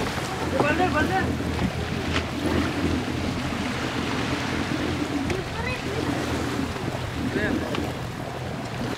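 A boat crosses the open sea toward Padmadurg sea fort off Murud on the Konkan coast. Engine rumble, wind buffeting and wash of waves run throughout, with faint voices now and then.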